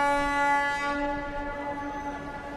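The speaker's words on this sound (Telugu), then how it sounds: "ట్రైన్ ఆగిపోయింది బాబు." Train on a railway line in an Indian film scene, with a sustained tonal horn or whistle and rumbling rail noise that gradually fades as it slows to a halt.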